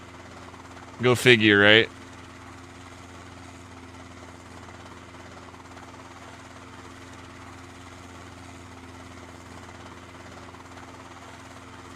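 A steady engine drone from an aircraft flying in the DayZ survival game hums low and constant throughout, with someone briefly talking over it near the start.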